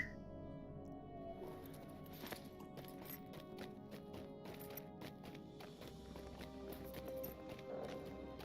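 Hoofsteps of a dusky mountain goat mount in the Lord of the Rings Online game trot in a quick, steady rhythm of sharp clops, heard faintly and close, with no talking.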